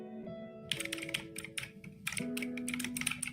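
Rapid clattering keystrokes on a computer keyboard come in uneven bursts, fairly close and clear, over a steady tonal musical drone.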